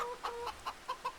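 Cockerels cluck in the Farming Simulator 25 video game, a run of five or six soft, quick clucks in an even rhythm, faint and close together.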